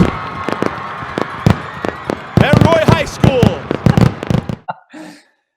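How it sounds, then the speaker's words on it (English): Fireworks burst repeatedly at Roy High after a high school football win, a string of loud sharp cracks and booms under a commentator's voice, then the bangs stop and the last seconds fall quiet. "They hold on to win, and fireworks start going off."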